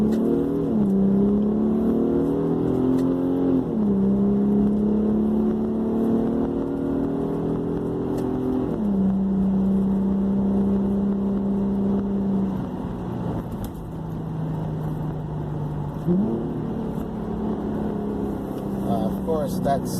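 From the cabin of a 2015 Infiniti Q50 3.7 with a muffler delete in manual mode, a deep engine drone rises with throttle and drops at each gear shift, staying loud and steady for twenty seconds.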